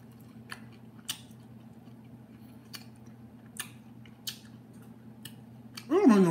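Crunchy chewing of a battered, seasoned fried tomato, with a few sharp crisp bites spaced irregularly over a low steady hum, close and fairly quiet, and a voice starting at the end.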